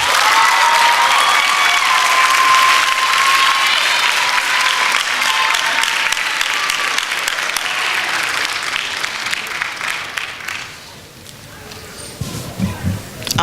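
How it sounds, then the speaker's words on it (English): Audience applause at an eighth grade graduation ceremony: sustained, dense clapping from a large crowd that holds steady for about ten seconds, then thins and tapers with a few scattered claps at the end. "Let's give them another round of applause."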